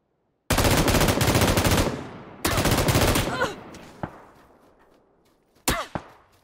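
M249 light machine gun in the shooter PUBG, with two loud sustained bursts of automatic fire, each lasting over a second, followed by a few isolated shots and ringing tails as the fire decays.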